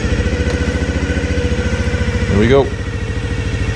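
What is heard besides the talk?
Honda Dream 50 motorcycle engine starting and idling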